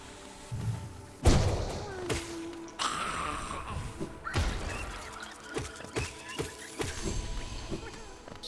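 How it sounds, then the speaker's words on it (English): Explosions in the video game Hollow Knight burst as a series of heavy thuds and booming impacts, one loud blast followed by several quicker hits over game ambience. "So many explosions."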